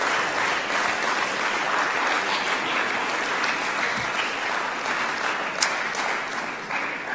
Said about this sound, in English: So let's give your parents a round of applause for this opportunity.